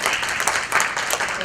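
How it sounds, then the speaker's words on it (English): Audience applause at a Women in Healthcare event, a steady wash of many hands clapping together for the whole short stretch, fairly close and even in loudness. "So can we just give them a round of applause?"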